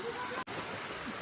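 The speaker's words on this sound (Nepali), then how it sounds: "यता पनि झर्ना छ" A waterfall along a trekking trail gives a steady, full rushing roar that fills the whole moment, broken only by a split-second dropout.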